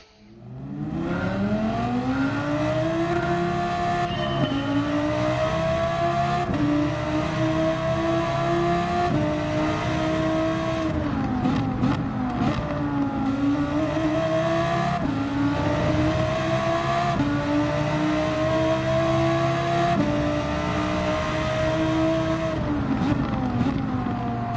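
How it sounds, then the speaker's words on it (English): A mid-engine race car in Gran Turismo 7 climbs and drops through the revs on a mountain circuit, its engine note loud and steady throughout with repeated upshifts and brief lifts, no talking. "It's a mid-engine car."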